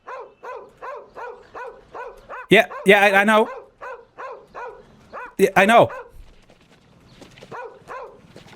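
A dog in a video game barks in a steady run of short, evenly spaced yaps, broken by two louder, drawn-out whining barks, with a person talking briefly over it.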